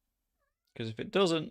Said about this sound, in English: I've just heard the cat enter the room, so you might hear some meows in the background.